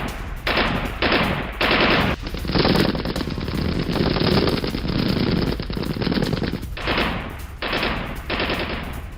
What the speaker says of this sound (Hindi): AK-47 से फायरिंग की गई।